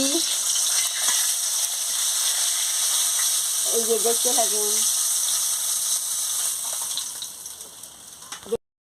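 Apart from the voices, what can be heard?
fish frying in oil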